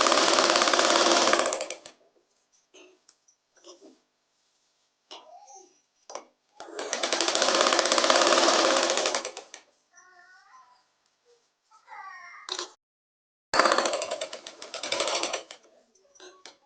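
A sewing machine stitches a girl's umbrella frock in three loud running bursts of about two to four seconds each, separated by pauses with scattered small clicks and handling noises.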